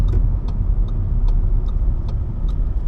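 A manual-transmission car rolling slowly in second gear over a speed bump, its engine laboring close to stalling as a steady low rumble, with faint periodic ticking clicks throughout.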